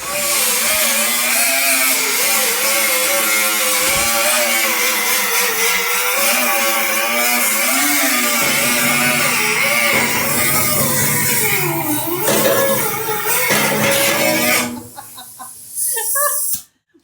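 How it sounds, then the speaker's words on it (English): Welding and grinding on a VW 23 window bus in a restoration shop: a loud, steady, harsh whine runs almost continuously with wavering pitch, then cuts out near the end, with people talking over it. "We're welding and grinding."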